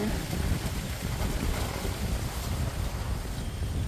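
Steady wind buffeting and roaring across the microphone on a farm by rice fields, a continuous low rumble with gusty swells throughout, no voices.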